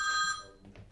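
A telephone rings with a bright electronic trill, steady and fairly loud at first, then cut off partway through, leaving quiet room noise.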